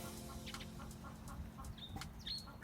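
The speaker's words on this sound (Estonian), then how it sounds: "Need on siin kõik ahhaamunadest tulnud tibud, kellest on saanud kanad ja kuked." Chickens and roosters, grown from hatchery chicks, cluck and stir in a busy coop with scattered chirps and a faint wing flutter over a steady low background hum.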